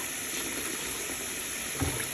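Tap water runs steadily into a kitchen sink being filled to wash fruit, a close, continuous rushing hiss with a small bump near the end and no talking.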